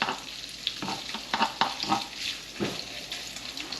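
Food sizzles and fries in a pan as it is stirred toward browning, with repeated scraping strokes over a steady, close sizzle and no talking.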